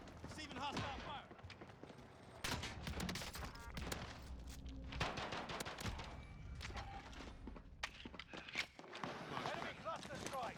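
Gunfire in the Call of Duty: Modern Warfare video game, with scattered shots and bursts over busy combat ambience, footsteps and movement, under radio-style voices talking throughout.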